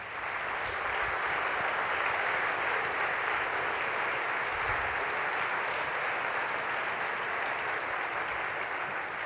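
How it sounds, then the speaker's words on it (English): Steady, dense applause from a conference audience at a welcome ceremony fills the whole stretch, a broad even wash of clapping hands without a break and no distinct voices on top. "We want to give you a real big hand of applause."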